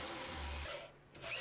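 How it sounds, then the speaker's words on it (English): Power drill pre-drilling and countersinking screw holes in wood for a rain barrel pumping station enclosure, a brief low whirring bite into the timber that fades out, fairly quiet and alone. "Again, more pre-drilling, countersinking"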